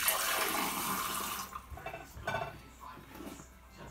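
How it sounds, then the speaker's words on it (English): Tap water gushes into a glass in a kitchen, a loud rushing pour that cuts off after about a second and a half, followed by faint clinks and handling of the glass. "you get this glass here, and you fill it with water"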